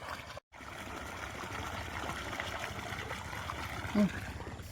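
A steady stream of water from a well pump motor gushes and trickles continuously, close and fairly even, with a brief break near the start.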